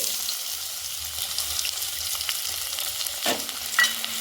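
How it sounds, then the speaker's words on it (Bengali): Chopped onions fry in white oil for vegetable soup, a steady bright hiss throughout with a couple of brief clatters from stirring near the end. "সাদা তেল দিয়ে সেই পেঁয়াজগুলো ভেজে নেব"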